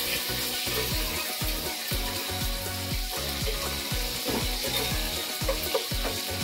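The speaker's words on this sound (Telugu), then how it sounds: "కరివేపాకు, ఆనియన్ వేసుకోవాలి. అవి బాగా ఎర్రగా మగ్గాలండి." Curry leaves and onion fry in hot oil for a fish curry, giving a steady close sizzle with a rapid rattling, bubbling texture that runs without a break and has no voices over it.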